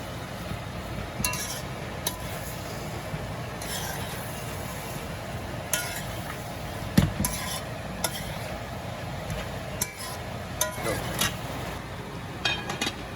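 A vegetable Maggi cube being stirred into cooking pumpkin, with repeated scraping strokes and clinks of a spoon against the pot over a low simmering background, close and moderately loud, without speech.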